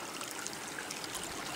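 A creek flows steadily at a remote hunting camp, a soft, even trickle and babble that stays faint and constant with no voices.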